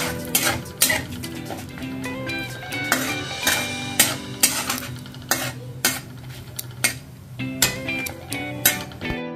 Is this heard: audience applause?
no